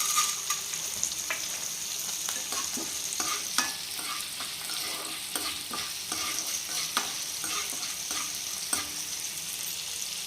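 Fenugreek seeds fry in a pan of oil for a chutney. A steady crackling sizzle runs under frequent sharp stirring clicks and scrapes, close and moderately loud throughout.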